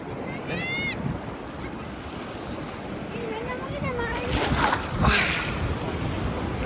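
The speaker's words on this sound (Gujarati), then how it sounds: "આમ જો ઠેઠ મોજા કેટલા ઊંડા ભાંગે" Steady roar of sea water and wind, swelling into a louder rushing crash midway, heard close up with voices faintly in the mix.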